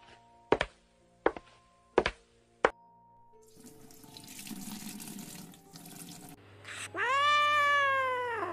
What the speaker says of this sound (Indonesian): Kenapa tuh si Mowi malam-malam gini ngeong sendiri, nggak kayak biasanya